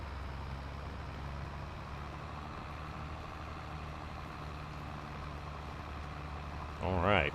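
A tractor in Farming Simulator 22 hauls a 9-meter plow uphill, its engine a steady, loud low drone under strain that holds constant throughout, with a brief extra sound at the very end.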